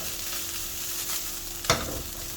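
Leftover rice fries for egg fried rice in a hot pan, hissing in a steady close-up sizzle, with one sharp pop breaking through near the end.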